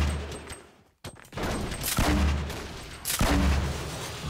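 Shotgun blasts in a Fortnite Battle Royale match: a few loud, sharp booming shots crack out one after another over steady game background noise.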